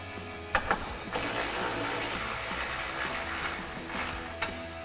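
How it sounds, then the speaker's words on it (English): A ratchet with an 18mm socket backs out the top shock bolt on a Jeep Wrangler JL. Quick, close clicking comes in short bursts over a continuous low mechanical background, with no voices. "now we're going to grab our ratchet with our 18mm socket and take our top shock bolt out."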